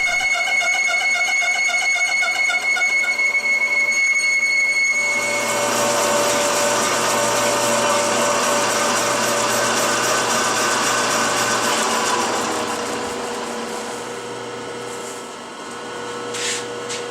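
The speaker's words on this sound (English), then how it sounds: "I'm using the grooving tool to cut halfway through one side of the plate and then finish cutting through on the opposite side" Metal plate being cut through with a grooving tool on a machine, a steady loud broadband cutting whine with a sustained tone running for most of the stretch, no talk.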